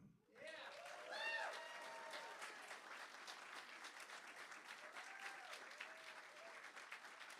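Audience applause welcoming Jack Graham at a live show, a dense, sustained clapping from a large crowd that swells quickly and holds steady, with a voice calling out near the start.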